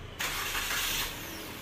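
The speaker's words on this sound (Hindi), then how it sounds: "गाड़ी को स्टार्ट करके देखेंगे कि साउंड कैसा है" A Suzuki Swift BS6 petrol-CNG engine cranks and catches, then settles into a steady, close running hum with a rough mechanical rumble.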